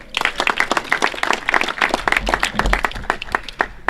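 Applause from the crowd at a county sports museum ceremony, many hands clapping briskly and evenly, close and full, with no speech over it.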